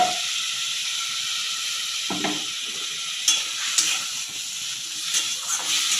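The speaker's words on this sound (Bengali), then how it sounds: "জিরে আর কাঁচা লঙ্কা পেস্টটা এবার আমি দিয়ে দেবো। একটু মিশিয়ে জলও দেবো।" Cumin and green chili paste sizzling in a pan while cooking a rohu fish curry, a steady bright frying hiss throughout with a few stirring scrapes, close and alone without talk.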